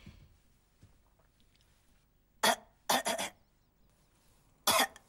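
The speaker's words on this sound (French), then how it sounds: "Elle est pas très convaincante, ta fausse toux." Three short, sharp coughs in a quiet room: one near the middle, a double burst right after, and another near the end, deliberately faked rather than from real illness. No one speaks.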